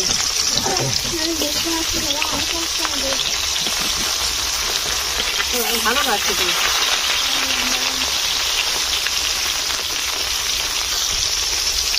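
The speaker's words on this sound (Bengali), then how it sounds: "বন্ধুরা আমি এদিকে মাছ ভাজছি" Rohu fish frying in hot oil in a village-style home kitchen, a steady, close broadband sizzle running the whole time while voices talk over it.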